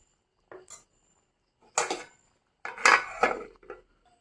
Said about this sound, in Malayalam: നമുക്ക് ഇവിടെ മൂടി വെക്കാം